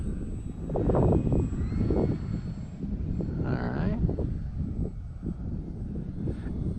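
A Hobby Zone Carbon Cub S2 RC airplane flies on a very windy day at low throttle with flaps down. Its engine hum sits under a constant heavy wind rumble, and someone speaks briefly.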